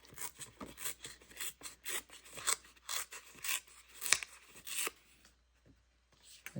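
Paper card stock being torn by hand in a series of rough, rasping rips that come in quick bursts, close and fairly loud, with a quieter stretch and a last short tear at the end.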